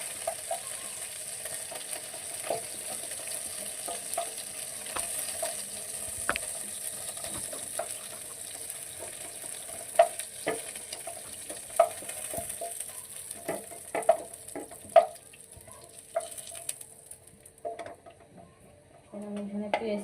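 Chicken frying in a pan: a soft, steady sizzle with scattered sharp clinks and stirring taps, at moderate loudness and fairly close.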